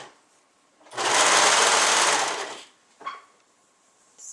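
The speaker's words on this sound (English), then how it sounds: "we're going to start at the bottom hem and sew up to the crotch seam" A sewing machine stitches a leggings seam from the bottom hem up toward the crotch, running in one loud, close burst of fast needle strokes lasting under two seconds, followed by a short mechanical click.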